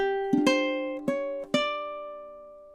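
A ukulele plays measure 24 of a song, with a few plucked notes close together, then two more spaced plucks, each ringing and slowly fading, close and clean.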